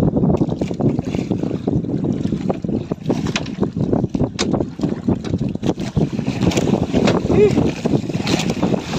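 A small fishing boat's engine runs continuously at close range, its low rumble mixed with gusty wind buffeting the microphone and splashing water.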